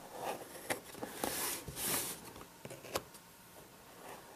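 Tabs on the retail box of a Google Nexus Q being cut open, heard as a series of short, crisp snips and clicks with small rustles of packaging in between, close and moderately quiet.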